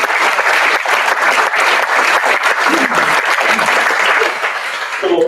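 A community forum audience at Windward Community College applauds steadily and loudly, dense clapping filling the room for about five seconds with no voices on top.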